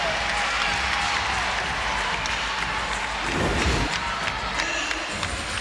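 NC State Wolfpack fans inside Reynolds Coliseum at an NCAA women's basketball tournament game, cheering and applauding in a sustained loud roar, with a thumping impact midway and an announcer talking over the crowd.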